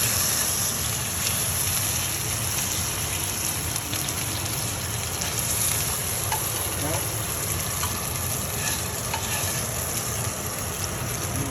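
Crispy-skinned fish fries in a pan just after being flipped, giving a loud, continuous sputtering sizzle that holds steady from start to finish with no voices over it.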